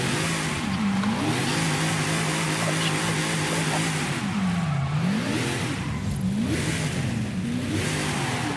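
In the Forza Horizon 5 racing game, a Mazda RX-7 revs up and down in repeated swooping surges under a steady engine drone, moderately loud with faint background voices.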